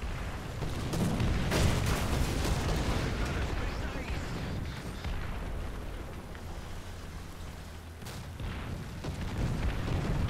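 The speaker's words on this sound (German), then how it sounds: "Wirkte wie Schüsse." Heavy booming shots and blasts from War Thunder, a tank battle game, with a T-34 1942 tank, several sharp hits over a dense rumbling backdrop, with someone talking over them in German.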